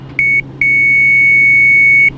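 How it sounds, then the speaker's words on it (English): Autopilot disconnect warning in a TBM850 aircraft cockpit: a short loud electronic tone, a brief gap, then a long sustained steady beep over low engine drone. "We'll disconnect the autopilot, so if you guys are wearing headphones, be sure to lower the volume,"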